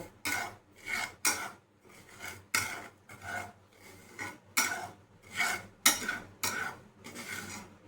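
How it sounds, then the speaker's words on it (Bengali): A mango rice kheer mixture stirred in a pan, steady scraping and rubbing strokes of a spoon against the metal, about a dozen rhythmic close passes with no voice. "পুরোটাই দিয়ে দেব, খুব বেশি না, কিন্তু হালকা হাতে নাড়ব"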